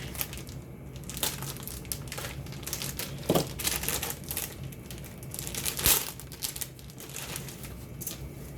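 A plastic-wrapped bag from a scale model kit being opened with an X-Acto knife gives close, continuous crinkling and crackling with a few sharper crunches and snaps.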